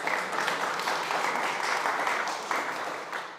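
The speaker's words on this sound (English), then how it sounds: "I'm wondering if you can all clap" An audience at a food summit at SXSW 2025 applauds, a dense, steady wash of clapping that holds throughout before easing slightly at the end.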